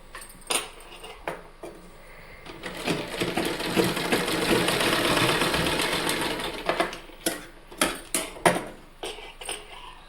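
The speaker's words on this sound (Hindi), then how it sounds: "ऐसे ही पूरे यहाँ तक इसको ऐसे ही फोल्ड कर करके इसको सिलाई चलानी है।" A sewing machine stitches a warm woollen baby cap. Short rattling bursts of needle clatter build into a sustained whirring run of stitching, then break into quick, choppy spurts again, close by.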